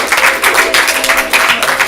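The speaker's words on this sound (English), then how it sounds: "let's keep that applause going" An audience at a ComedySportz improv comedy show claps loudly and continuously, a close, dense patter of hands in uneven pulses with no talk.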